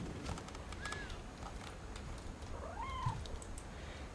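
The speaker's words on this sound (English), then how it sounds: "Oh, it's a cat." A cat meows softly in the video game What Remains of Edith Finch, two short rising-falling calls, the second longer, set against a steady low ambient background with no talk.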